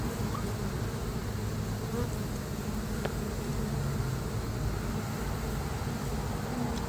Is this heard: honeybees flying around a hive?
yes